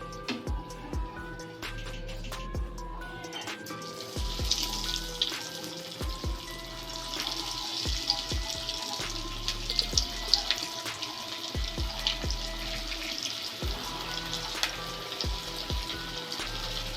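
Bread potato pakoras fry in hot oil with a steady crackling sizzle, dotted with small pops and sharper spatters, and a few clatters of utensils close by.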